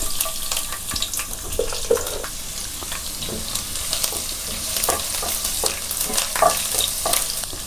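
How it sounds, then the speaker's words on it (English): Chopped garlic frying in three tablespoons of oil over a low flame, a steady broadband sizzle and crackle with occasional stirring scrapes, close and continuous with no talking. "Let's fry the garlic"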